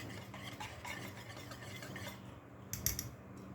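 Pakora batter of gram flour mixed with baking soda is stirred in a bowl, giving soft, rhythmic wet scraping and slapping, faint and close, ending with a couple of light knocks against the bowl.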